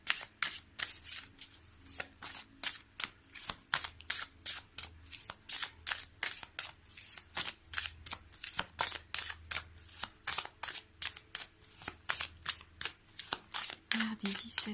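Oracle cards shuffled by hand in rapid, regular riffling bursts that repeat steadily and sound crisp and close, with a voice talking quietly underneath.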